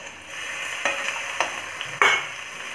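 Chopped potato and cauliflower sizzle in a frying pan for a home-style Bihari dish, a steady close hiss broken by several scraping stirs of a spoon, with no talking.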